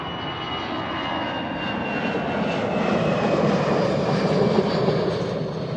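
A Lufthansa airliner's jet engines roar steadily as it passes at Amsterdam Schiphol Airport, a loud, continuous broadband rumble that swells slightly toward the end, with no talking.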